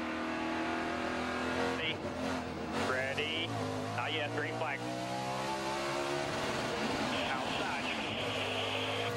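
On-board engine of a NASCAR stock car racing in the 2010 Meijer 300, droning loud and steady with rising and falling gear-shift pitches, while radio voices talk over it.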